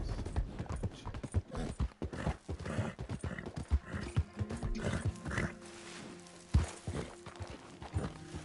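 Horse hooves clop in a steady, uneven rhythm in Red Dead Redemption 2 Online, close and fairly loud, with occasional snorts and low rumbling underneath.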